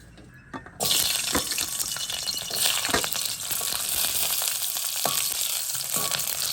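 Coriander and ivy gourd leaves hit a hot pan and burst into a loud, continuous sizzle, with faint clinks of a spoon stirring through the frying.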